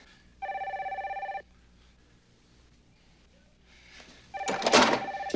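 A telephone bell rings in two loud bursts of a second or so each, with a quiet gap between them, in a tense scene from a 1989 drama.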